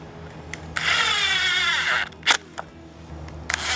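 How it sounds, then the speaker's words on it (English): A power drill drives a pocket screw into PVC trim in one close, whining burst of about a second and a half, followed by a few light clicks and handling knocks. "Okay, so now I'm just going to start putting screws in it."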